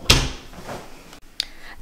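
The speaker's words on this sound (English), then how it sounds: "we are quickly going to close this door." Room door closing during a house declutter, with a sharp knock and thud at the start, some soft rustling, then a second brief click as the latch catches, all near and moderately loud.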